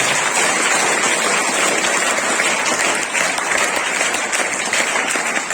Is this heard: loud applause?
yes